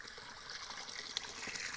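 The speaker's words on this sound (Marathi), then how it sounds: "विहीर पण दाखवतो मी पाणी उतरताना" River water running through a pipe into a well for recharge, heard as a steady, soft trickling and splashing flow with a few small spattering drips.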